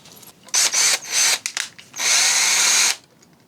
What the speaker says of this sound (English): Are we pre-drilling the holes for the screw?